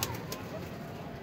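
Soft cooing of pigeons in a breeder's loft in Kasur, faint and somewhat distant against low background noise.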